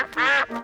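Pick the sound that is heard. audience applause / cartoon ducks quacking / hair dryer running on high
cartoon ducks quacking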